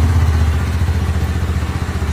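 A Honda CB Twister 300F motorcycle engine warming up at idle, a loud, close, steady low putter with a fast even pulsing beat and no talking.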